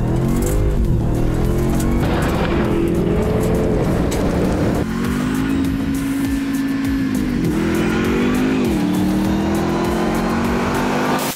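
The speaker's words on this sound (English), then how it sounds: "Here we go, the new Ram TRX, the most unbelievable road-registered vehicle I've ever driven." A new Ram TRX 1500 pickup truck driving on a rally and off-road track, its engine note loud and steady throughout, rising and falling in pitch as it accelerates and shifts, with no talk over it.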